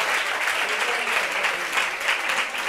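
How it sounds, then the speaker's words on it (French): An audience at a gathering applauds in support of someone, a thick continuous burst of many people clapping that stays loud and even throughout. "Applaudissements pour le soutenir,"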